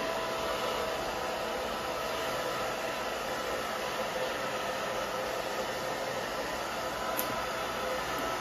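A hair dryer running on its low setting while drying hair, making a steady, close, even whoosh of blowing air throughout with no talking.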